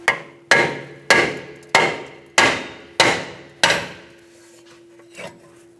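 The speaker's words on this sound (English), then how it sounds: "If not, you can hit it with a hammer." A hammer strikes a rear brake rotor on a 2009-2013 BMW 328i xDrive to loosen it: seven sharp, ringing metallic blows at a steady pace, each decaying quickly, then a faint scrape.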